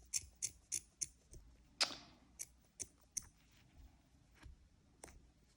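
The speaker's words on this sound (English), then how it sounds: "oh, these aren't the sharpest scissors." Dull scissors cut wool repeatedly in short, crisp clicks, about a dozen cuts at an uneven pace, close and quiet with no voices.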